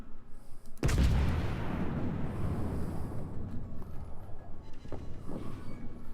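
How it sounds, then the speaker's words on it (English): A heavy naval gun salvo booms as shells hit an enemy battleship in World of Warships, one loud deep blast followed by a long rumbling roar and crackling debris that fades over a pulsing background of engine and water noise. "Boom! Hits. Enemy battleship foundered."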